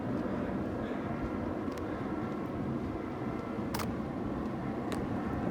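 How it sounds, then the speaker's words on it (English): Airplanes pass overhead near an ocean jetty, a faint, steady broad rumble that stays constant across the whole stretch, with a couple of brief sharp noises near the end. "Lots of planes going everywhere all the time."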